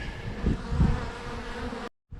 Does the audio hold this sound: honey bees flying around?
yes